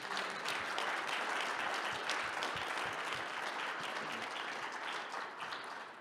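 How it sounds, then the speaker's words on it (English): A conference audience at a soil and food event gives a round of applause for SAS Soil presenters, with dense, steady clapping from many hands that holds loud and even for the whole stretch, with no talking. "we'll give them a round of applause"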